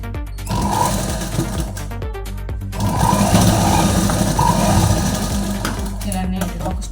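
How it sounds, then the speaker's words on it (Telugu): A sewing machine stitches a small children's doll dress, its motor whirring loudly up close in two long runs split by a brief stop. "ఇలా నీట్గా ఒక స్టిచ్ వేసుకోవాలి."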